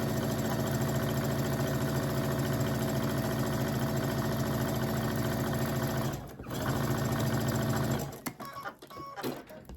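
A sewing machine stitches a quilt panel in a fast, steady mechanical whir heard close up, with a brief pause and then short stop-start bursts toward the end.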